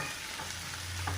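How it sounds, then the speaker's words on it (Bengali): Green chillies, flattened rice and onion frying in a pan, a brief, faint, steady sizzle heard close by with no voices. "তাই কাঁচা ঝাল চিড়া আর এই পেঁয়াজ ভেজে নিচ্ছি"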